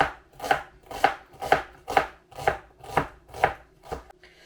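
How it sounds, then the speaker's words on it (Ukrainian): A knife chops an onion steadily on a board, eight crisp evenly spaced strokes about half a second apart, close and clear with no talking. "розрізаю цибулину на три частини та нарізаю"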